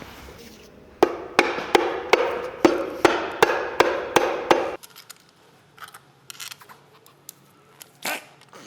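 A quick series of about nine sharp, evenly spaced knocks, like a part being tapped into place, followed by quieter scattered clicks and one more knock.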